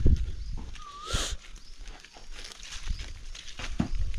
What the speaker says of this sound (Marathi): गाईला थोड्या वेळ बाहेर काढले या